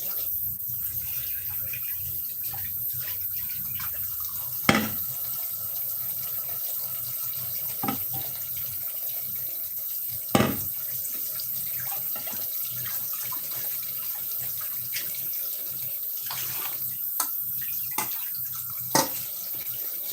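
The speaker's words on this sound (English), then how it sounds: "I'm going to run water into the pot." Tap water running steadily into a cooking pot to rinse parboiled rice, a continuous splashing hiss with a few sharp clanks and knocks scattered through it, no talk.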